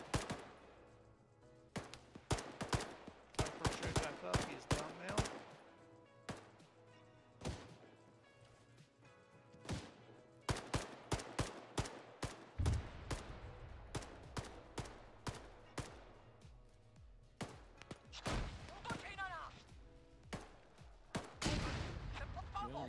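Gunfire in the military game ARMA 3: dense bursts of rifle and machine-gun shots, some single cracks and some rapid strings, popping near and far over more than twenty seconds at a low overall level.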